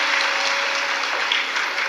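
An audience at a live Shiv Mahapuran religious discourse in Surat claps together, a brief, steady wash of many hands applauding at moderate loudness with no voices over it.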